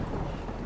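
Acidic rain and thunder in the Death Stranding video game: a loud, dense wash of rain with a deep rumble of thunder, steady and close throughout a brief moment.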